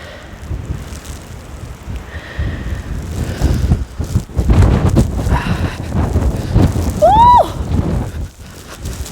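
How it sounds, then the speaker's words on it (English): Cold winter wind roars steadily through a snowy Calgary neighborhood outside downtown during snowfall at about -20 °C, loud and blustery throughout, with a brief high whinny-like squeal near the end. "Look at the wind."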